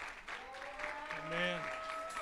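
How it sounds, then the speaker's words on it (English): A church congregation claps and cheers at a worship service, with soft, continuous applause mixed with voices calling out. "Give her a big cheer."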